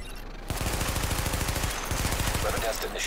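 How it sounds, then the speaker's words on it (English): Rapid automatic gunfire from a weapon test in The Division, a dense, loud burst that pauses briefly and then resumes, with a voice speaking over it at the start. "Weapon test initialized. Open fire at the highlighted targets."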